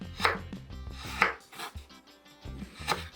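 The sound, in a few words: knife slicing a large garlic clove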